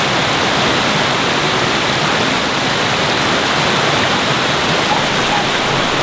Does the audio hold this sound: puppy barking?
no